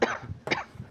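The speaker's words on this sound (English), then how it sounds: "Keep coughing, buddy." Two sharp, close coughs from a man about half a second apart, loud and alone with no talking.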